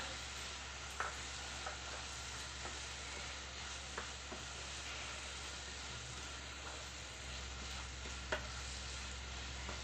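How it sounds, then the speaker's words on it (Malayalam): Grated coconut stirred in a hot pan while making a small banana snack: a steady, even hiss of frying with light, scattered scrapes and taps of a spoon, close by and uninterrupted by voices. "തേങ്ങയും ചേർത്ത് കൊടുത്തതിന് ശേഷം നല്ലതുപോലെ ഇളക്കി കൊടുക്കുക"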